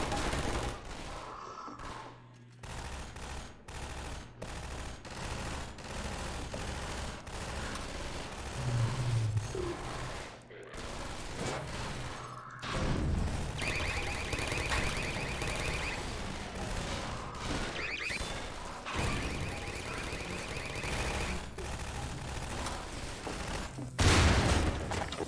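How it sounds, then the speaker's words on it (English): Automated turrets firing in Half-Life 2, sustained rapid bursts and booms continuing for the whole stretch, loud and close, with brief lulls and louder volleys toward the end. "The turrets will do all the job."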